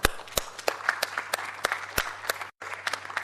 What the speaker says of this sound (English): we also need to have a round of applause for Professor Gopalakrishnan.